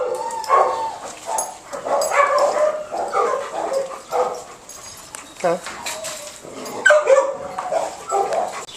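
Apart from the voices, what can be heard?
dogs barking and whimpering during introduction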